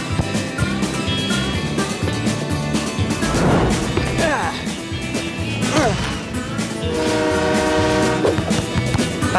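A loud train rumbles past with clattering wheels and a horn blast, over a busy, dramatic mix of other sounds in a cartoon.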